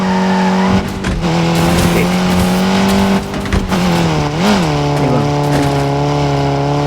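Loud, continuous motorbike engine whine in the mobile racing game Need for Speed, pitch rising and dipping with throttle during a wheelie, with skidding and tire screeches mixed in.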